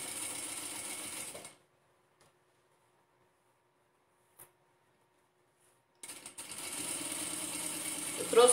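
A sewing machine topstitches a zipper on a fabric case, its rapid mechanical whir running in two close bursts separated by a long quiet pause with a faint click.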